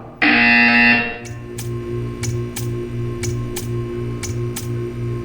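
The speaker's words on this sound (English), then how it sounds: "You will hear a buzzer." Buzzer in the video game Portal 2: a loud harsh electronic tone blares briefly, then gives way to a steady pulsing hum with regular sharp ticks repeating about twice a second.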